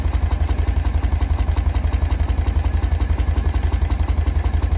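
A half-scale Advance steam traction engine chugs along steadily, its strong low pulsing beat repeating rapidly and evenly with metallic clatter on top, close and loud throughout with no talking.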